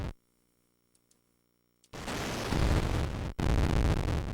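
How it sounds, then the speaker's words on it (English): Explosions in a retro arcade missile-defense game: near-silence with faint electronic blips, then a sudden loud, sustained noisy roar, a brief cut, and a second burst of harsh static-like blast sound. "you need to get it so the explosion is out ahead of the missiles."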